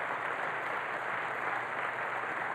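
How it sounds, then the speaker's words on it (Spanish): Applause from an audience honoring Bolivarian military aviators, a soft, even wash of clapping with no breaks, heard alone at moderate distance. "Pido un aplauso para los aviadores militares de la aviación militar bolivariana."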